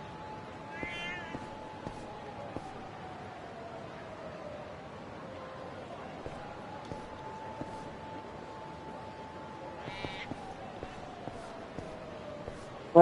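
Cat in the video game Lost Judgment meowing twice, short high calls spaced well apart over a quiet background hum.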